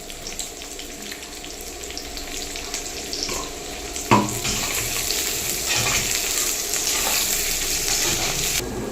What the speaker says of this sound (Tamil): அந்த சின்ன வெங்காயத்தை வந்து இதில் கொட்டி நம்ம நல்லா வதக்கி விட்டுக்கலாம்